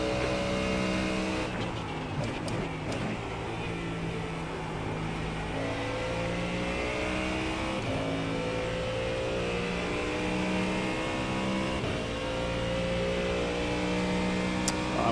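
GT3 race car engines in the iRacing sim roar steadily throughout, with rising and falling gear-shift sweeps, quick downshift blips and brief tire noise, loud and continuous with no talk.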